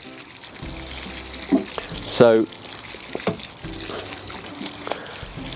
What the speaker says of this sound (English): I have here my specially modified Rhodesian Ridgeback watering can that just helps to spread the water